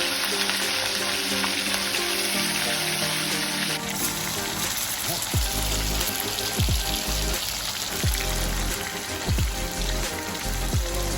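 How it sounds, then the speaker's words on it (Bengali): Marinated chicken frying in hot white oil, a dense, loud, continuous sizzle that keeps going with a few thuds from pieces being added or moved. "এবার যে চিকেনটা ম্যারিনেশন করে রেখে দিয়েছিলাম সেটা আস্তে আস্তে সবগুলো ভেজে দেবো।"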